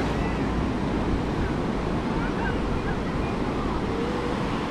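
Sea waves break along Varca Beach in South Goa, a dense continuous roar of surf mixed with wind buffeting the microphone, loud and close with no letup.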